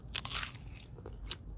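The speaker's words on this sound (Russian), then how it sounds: "И хрустит, вот сейчас грызну его." A crunchy, slightly green Solo flat peach bitten into close up, giving a sharp crisp crunch followed by a few moist chewing crackles, with no talk.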